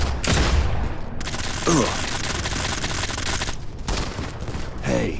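Dense, continuous automatic gunfire rattles from a Modern Combat 5 multiplayer match, with rapid overlapping bursts throughout and a brief grunt from a player.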